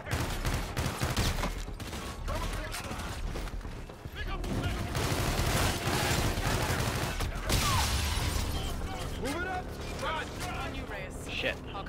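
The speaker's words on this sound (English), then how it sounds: "Zetef is using our Aegis guns to shoot down the fleet." Guns shooting down a fleet in Call of Duty: Infinite Warfare, dense continuous gunfire and blasts in a busy battle mix, with people talking over much of it.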